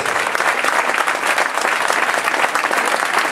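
Crowd applause at a Podemos political rally in Vinaròs, a dense, steady roar of clapping from many hands filling the whole stretch without pause.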